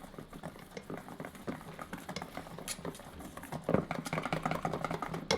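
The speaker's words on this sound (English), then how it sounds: "and then you just whisk it all together" A whisk stirring a thin donut glaze of butter and sugar in a bowl, a soft continuous clicking and scraping patter, close and fairly quiet, growing slightly busier toward the end.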